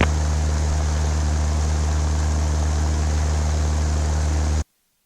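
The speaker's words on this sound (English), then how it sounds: "We'll take off on the east side of the field." A Cessna Skywagon propeller plane roars at full power for takeoff from a backcountry airfield, a loud, steady engine-and-propeller drone heard from inside the aircraft, ending in an abrupt cut to silence.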